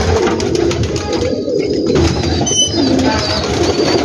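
A large flock of pigeons coos steadily inside a rooftop breeding cage in Gujranwala, dense overlapping burbling calls close by with soft rustling and faint chirps, continuous and fairly loud, with no talking.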